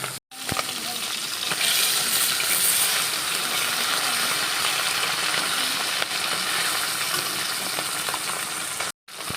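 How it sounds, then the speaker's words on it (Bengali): Fish fries in hot oil on a home stove, a loud continuous close sizzle and spatter throughout, with a brief break near the start and end. "এখানে তো মাছ ভাজা চলছে"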